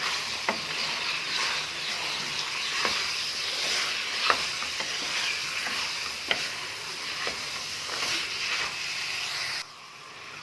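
Boiled drumstick pods being stirred into sizzling fried chicken in a pan, with a steady close frying hiss broken by several sharp clicks of a spoon against the pot, no talking.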